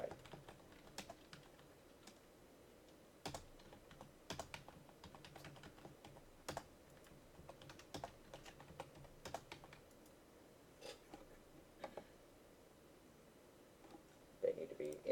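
Computer keyboard typing while writing code, heard as quiet, irregular clusters of key clicks with short pauses between bursts, set against a low room hum.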